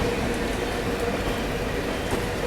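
The Sealdah Bikaner Duronto Express runs along the track in a steady, fairly quiet rumble as it slows, with no voices heard.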